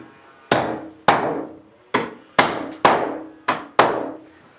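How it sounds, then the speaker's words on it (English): Metal nail stops struck with a hammer into wooden wall studs near wiring at the top plate, seven sharp, loud blows at an uneven steady pace, each ringing briefly before decaying. "These things are designed with little spikes on either end of them and they just hammer in."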